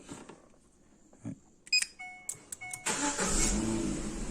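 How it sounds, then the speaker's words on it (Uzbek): A Chevrolet Cobalt fitted with an aftermarket start-stop button gives a few sharp clicks and beeps, then the starter cranks and the engine catches into a steady idle close by. "Mashinamiz zavod bo'ladi."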